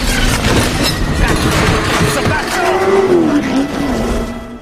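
A race car roars loudly as it speeds up, with a dense, continuous engine noise and a rising whine near the end, while a voice talks over it.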